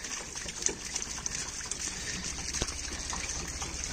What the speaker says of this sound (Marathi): पाणी टाकून घेतो